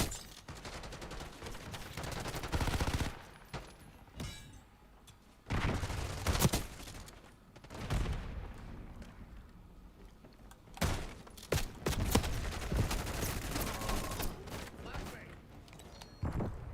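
Gunfire from the video game Call of Duty, including shotgun blasts, comes in several loud bursts separated by short lulls, with talk present through parts of the stretch.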